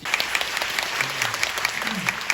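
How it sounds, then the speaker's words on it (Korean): Audience applause in a theatre at the closing performance of the musical Equal, with dense clapping and a few rhythmic louder claps standing out, plus a faint low voice beneath. "뜨거운 박수를 함께 보내주시면 정말"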